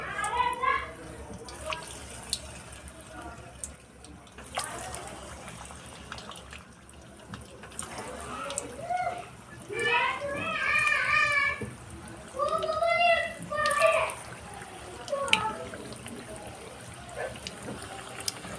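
Gulab jamun balls drop into hot oil and fry with a soft, bubbling hiss that swells and fades, while someone talks intermittently nearby.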